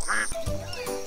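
A cartoon duck gives a few short, loud quacks in an animated children's educational show about animals, heard alone without talk over it.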